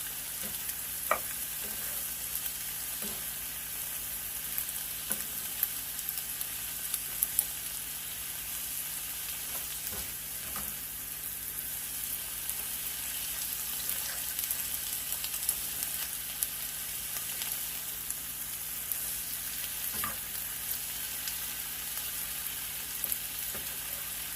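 Onions sweat gently in a frying pan, kept from browning until translucent, ahead of making onion fritters; a steady soft sizzle runs throughout with occasional light clicks of stirring, fairly quiet and with no talking.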